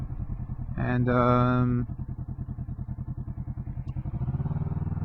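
A Kawasaki Vulcan S motorcycle engine thrums with a steady, pulsing rhythm throughout, close and moderately loud, with a brief whine rising over it early on.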